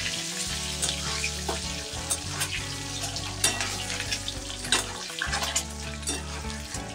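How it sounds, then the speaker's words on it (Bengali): Eggs frying in hot oil with a little turmeric in a pan, a loud, continuous close sizzle and crackle, with occasional clinks and stirring. "এবার ডিমগুলিকে একটু সুন্দর করে ভেজে নেব।"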